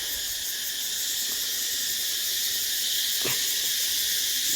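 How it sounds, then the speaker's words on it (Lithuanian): Cicadas near Ba Ho waterfalls in Vietnam keep up a loud, unbroken high-pitched drone, steady and close throughout, with no one talking. "Tas garsas yra cikadų."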